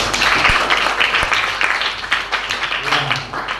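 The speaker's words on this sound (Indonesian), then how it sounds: "Oke, tepuk tangan." Students applauding in a classroom, a dense, steady patter of many hands clapping close by for a few seconds.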